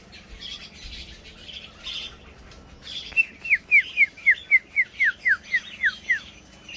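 A tiểu mi songbird sings a bright run of about a dozen rapid, evenly spaced descending whistled notes, loud and close, after quieter scattered chirps.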